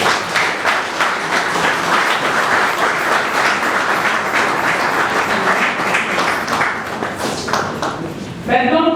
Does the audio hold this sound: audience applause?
yes